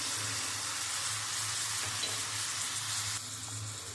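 Ground turmeric, chili, cumin and coriander fry in a pan for a prawn curry, a dense continuous hiss of sizzling with faint stirring scrapes, close and even, dropping slightly near the end.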